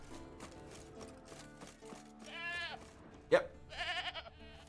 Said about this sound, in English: Probably the goat.